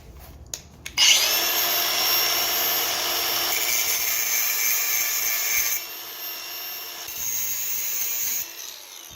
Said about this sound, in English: I'm just gonna take my grinder, get them in between, sand them down as best I can without damaging anything.